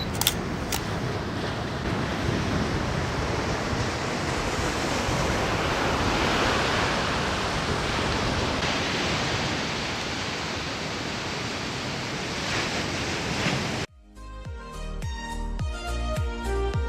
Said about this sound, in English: We're here at the Diamond Beach.